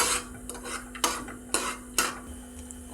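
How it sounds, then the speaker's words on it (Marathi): Cashews and almonds being stirred in warm ghee in a pan, a spoon scraping and knocking against the metal in a few distinct strokes over a soft background sizzle. "याच्यामध्ये काजू बदाम हलकंसं खरपूस रंग येईपर्यंत आपण भाजून घेऊया"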